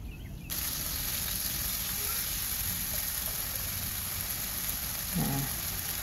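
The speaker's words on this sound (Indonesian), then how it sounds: "Kemudian kita aduk-aduk dan tumis hingga bumbunya matang dan wangi." Ground spice paste for chicken liver and gizzard sizzles steadily as it is stir-fried in a hot wok, a dense close hiss running throughout, with a short faint voice-like sound near the end.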